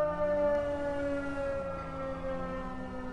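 A long, wailing siren holds steady tones at a distance, droning continuously throughout without any voices.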